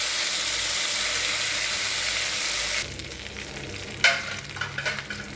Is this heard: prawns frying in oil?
yes